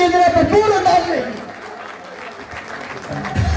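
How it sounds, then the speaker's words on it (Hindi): An audience claps loudly for the guests, a burst of applause that fades into a softer scattered patter, with a voice and some music-like tones mixed in at the start. "तालियां होनी चाहिए मेहमानों के लिए जरा भरपूर अंदाज में"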